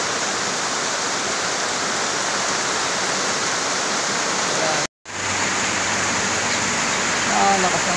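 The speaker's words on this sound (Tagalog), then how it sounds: "Lakas ng ulan." Heavy rain pours down beside a house near a rushing creek, a loud dense hiss with a brief dropout midway before the steady downpour resumes.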